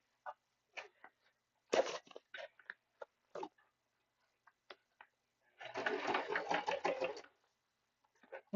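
A sewing machine stitches fabric with the presser foot raised in one steady burst of about a second and a half, close by, after a run of small scattered handling clicks and taps.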